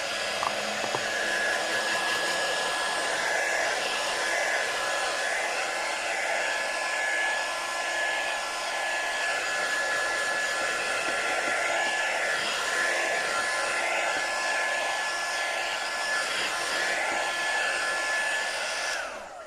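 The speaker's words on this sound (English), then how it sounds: "So we're going to dry that just a little bit, and then we're going to put it to one side to dry." Handheld hair dryer used to dry a freshly painted craft piece with shimmer paint, a steady loud whooshing whine running continuously for nearly twenty seconds, close by and alone.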